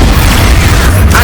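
An Expulso spell blast in Hogwarts Legacy, a short, very loud booming explosion with heavy low rumble filling the moment.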